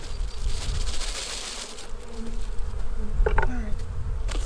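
Honey bees in an opened hive fill the air with a dense, continuous buzzing swarm, close and steady, with a few louder passing drones.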